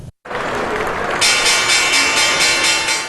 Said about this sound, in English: As the bells chime to open the market today